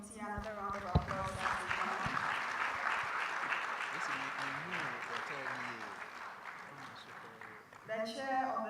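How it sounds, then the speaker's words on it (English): Audience applause for the organizing committee at the Ghana College of Physicians and Surgeons leadership symposium, a broad wash of clapping heard under a speaking voice, which returns at the end. "Please let's give the committee another round of applause."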